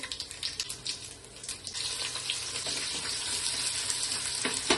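Fennel seeds sizzle and crackle in hot oil in a home kitchen pan, a steady bright frying hiss with small pops running throughout, close and fairly loud.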